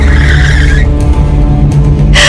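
A car brakes hard and its tires skid in a loud, sustained screech that fills nearly the whole moment, then cuts off with a short final scrape; an effect heard alone without voices.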